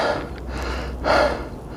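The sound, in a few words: hiker breathing hard after finishing a climb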